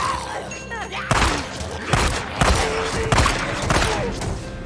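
Gunfire in a video game during a Twitch stream crackles as a string of about five heavy, booming shot bursts roughly half a second to a second apart, with voices underneath.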